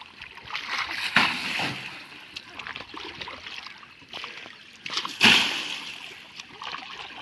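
A tractor is washed with river water: irregular splashing and sloshing close by, with two louder bursts of splatter and a faint voice in the background.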